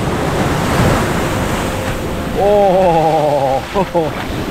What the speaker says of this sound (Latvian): Viļņi ir forši.